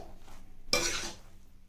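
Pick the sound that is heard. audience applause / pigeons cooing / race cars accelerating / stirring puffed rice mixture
stirring puffed rice mixture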